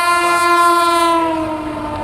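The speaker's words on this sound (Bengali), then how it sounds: "এই যে ওদিকে ট্রেন যাচ্ছে ট্রেন আসছে" A train passes close by and sounds a loud, sustained horn blast for about two seconds over a low rolling rumble, with no voices.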